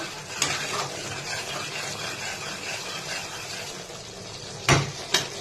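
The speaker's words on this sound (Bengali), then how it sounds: "ধনেপাতাটা একটু ভাজা ভাজা হয়ে গেছে।" Coriander leaves fry in a pan while being stirred, giving a steady low sizzle with a few sharper utensil scrapes and clinks near the end, no voices.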